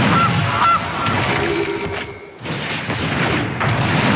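A loud cartoonish goose honk plays as a Goose card hits the battlefield in the MTG Arena card game, several bursts and thumps blending into dense digital effects without any talk.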